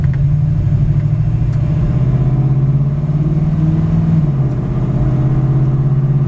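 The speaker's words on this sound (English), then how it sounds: "We're gonna take it for a quick drive and I'll show you around this truck" A steady, deep engine rumble of a 1964 Chevrolet C-10 pickup with a 350 V8 and automatic transmission on the move, loud and continuous with a slight dip and shift partway through.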